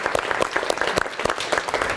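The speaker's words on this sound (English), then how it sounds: "please give her a round of applause" A college event audience claps steadily in dense, even applause, close and sustained throughout.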